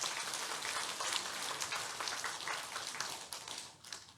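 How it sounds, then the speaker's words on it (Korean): A congregation at a church Christmas thanksgiving service applauds the infant and children's departments, a dense, even patter of many hands with no voices, like rain. "우리 영유아부하고 어린이부에게 박수 한번 쳐주시기 바랍니다"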